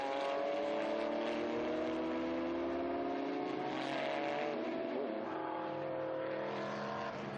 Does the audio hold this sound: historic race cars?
yes